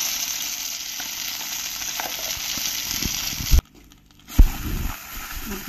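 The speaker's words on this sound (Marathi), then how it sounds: "1 मिनिट तरी परतून घेऊया, म्हणजे मग या लसणाचा स्वाद या आपण वाटलेल्या मूग जे टाकले त्यात मिक्स होऊन जातो।" Ground sprouted green moong sautéing with chopped garlic in a pan, a loud, dense close sizzle that cuts out briefly to near silence, then resumes with a burst of stirring and spattering.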